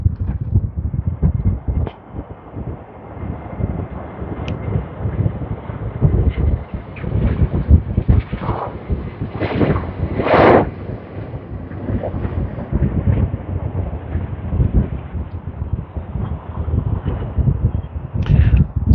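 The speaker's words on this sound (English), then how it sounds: "It is windy." Steady, loud wind buffets the microphone throughout on a cold, gusty day beside runway 27 at Amsterdam airport, with rough low rumbling and occasional stronger gusts.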